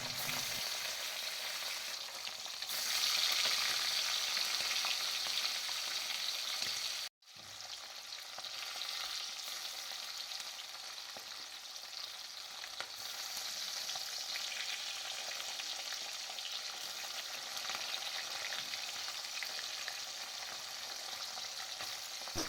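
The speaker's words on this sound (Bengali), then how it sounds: "উনুনে কড়াই বসিয়ে দিয়ে সর্ষার তেলে মাছগুলো ভেজে নেব" Tengra fish frying in hot mustard oil in a kadai, a steady dense sizzle running close and continuous, with a brief drop near the middle before the crackle resumes.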